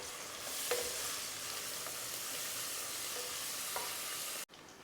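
Mint paste and coriander are stirred in a hot pan, giving a steady soft sizzle broken by a few light scraping stirs, with a brief dropout near the end.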